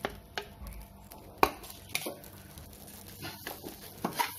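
Masala being mixed into aval egg masala in a pan makes soft, irregular scraping and tapping, with a few sharper knocks of a spoon against the pan, close and fairly quiet with no voices.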